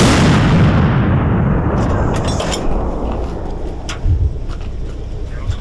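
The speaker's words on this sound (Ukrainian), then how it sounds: "Гармата! Постріл!" A French TRF1 howitzer fires, a heavy blast booming at the start, its roar rolling and fading over several seconds, with a few sharp clanks and thuds following.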